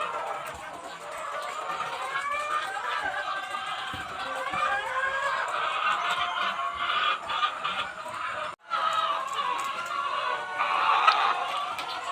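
Steady chatter of many chickens clucking and calling together, a busy continuous flock sound with one brief dropout near the end.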